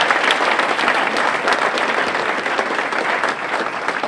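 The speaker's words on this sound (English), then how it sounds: "Give her another round of applause" Audience applause filling a hall at a motivational speaking event, steady dense clapping from a large crowd throughout, loud and close with no pause.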